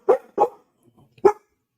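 Dogs barking indoors during a live craft session: two quick barks close together, then a third after a short pause, loud and near with faint rustling between.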